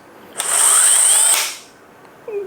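A DeWALT DCD1007 drill driver spins up with a loud whine for about a second during an anti-jam cutoff test, then winds down and stops, followed by a faint click.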